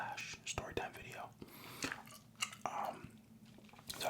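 Close, wet gum chewing with soft smacks and squishes in an irregular rhythm, mixed in with quiet whispered talk.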